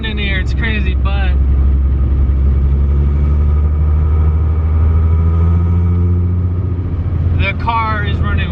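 A VR6-swapped MK2 idles steadily and loud up close, a deep, even engine rumble running throughout, with people talking briefly at the start and again near the end.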